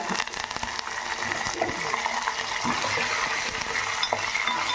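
Curry leaves and coriander fry in a pan for tamarind pulihora, a steady broadband sizzle with occasional light stirring scrapes, close and continuous with no talk.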